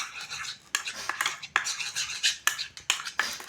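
Homemade watercolor paint, red being prepared, is stirred in a small container with rapid, close scraping and clinking strokes, repeated in a quick irregular rhythm.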